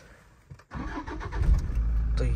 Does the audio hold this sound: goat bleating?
no